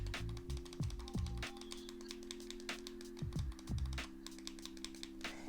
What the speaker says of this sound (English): The buttons here are way more clickier than the Mocute controller.